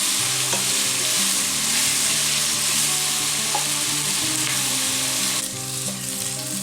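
Sliced onions sauté with salt in a wide pan for a spicy Kerala chicken roast, giving a loud, continuous sizzle with occasional stirring scrapes and no talking.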